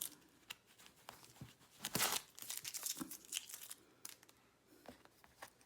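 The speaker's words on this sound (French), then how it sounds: "J'enlève le scotch." Crinkly tearing and peeling of adhesive tape during machine embroidery work, with a louder rip near the middle, close up and quiet, no talking.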